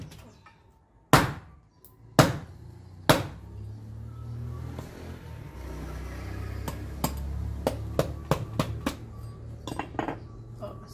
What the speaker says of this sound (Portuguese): eu tenho que colocar ela num lugarzinho assim e bater com força o machado